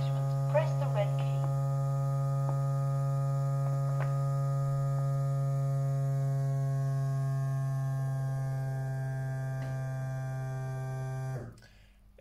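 An automated blood pressure machine in a health-check pod runs with its cuff on the wrist, giving a steady electric humming drone with a bright tonal buzz for about eleven seconds before it abruptly cuts out.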